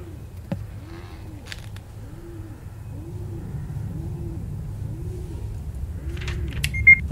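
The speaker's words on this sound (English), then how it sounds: "Shut up, pigeon." A pigeon coos indoors in a repeated two-part rhythm, about six soft calls spaced roughly a second apart over a low rumbling background, with a few faint clicks and rattles.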